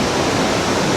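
Li Phi waterfall on the Mekong in southern Laos, with water rising at the start of the rainy season: a steady, dense roar of rushing water, loud and unbroken.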